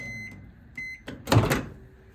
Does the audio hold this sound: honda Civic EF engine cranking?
no